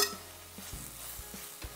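A spoon stirs grated coconut into cooked spinach for a Kerala cheera thoran, producing soft rhythmic scraping taps against the pan about every half second over a faint background sizzle.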